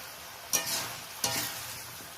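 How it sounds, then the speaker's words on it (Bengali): Fried potatoes being stirred together with duck meat in a pan, with two brief scraping strokes over a soft, steady sizzle; no talking. "আলুটা দেওয়ার পর বেশ ভালো করে একটু নাড়াচাড়া করে নিলাম মাংসের সাথে।"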